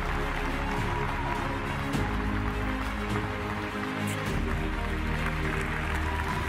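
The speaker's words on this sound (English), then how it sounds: "ask for a big applause" Audience applause at a conference closing session, a steady wash of clapping from a large crowd, even and sustained, with a faint hum beneath.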